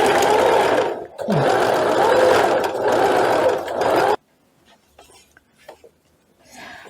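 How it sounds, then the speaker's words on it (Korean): A sewing machine stitches a straight 1 cm seam on fabric for lounge pants, a loud, close, continuous whirring run with a brief pause near the second mark, then stopping, followed by faint handling noises and quiet talk. "이 방향으로 해서 박음질을 1cm 박아줍니다"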